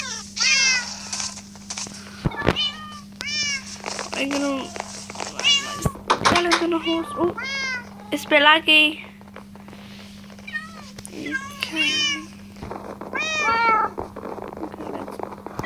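Cats meow repeatedly in the video game Good Craft, a string of close, clear meows scattered across the scene over a steady low hum, while a player talks intermittently between them.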